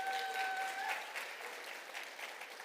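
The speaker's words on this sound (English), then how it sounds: "Give a big round of applause." Audience at a startup showcase applauds a panel guest, a short wash of clapping starting full and tapering slightly, with a brief tonal whine at the start.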